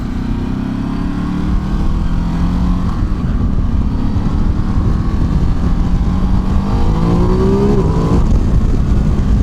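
A Ducati Desert X motorcycle engine pulls steadily and loudly under load, its pitch climbing through gear changes as the bike accelerates, with wind noise and no talking.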